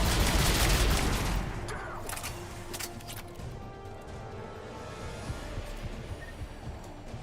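Gunfire erupts in the video game Mass Effect Legendary Edition, first a dense loud burst, then scattered sharp shots and crackling volleys continuing at a lower level.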